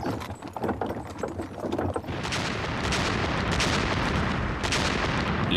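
Artillery barrage on the WWII Eastern Front in 1943, from archival film: a dense, continuous roar of rumbling blasts and crackling impacts that swells after a rougher opening and holds steady, loud, with no talk.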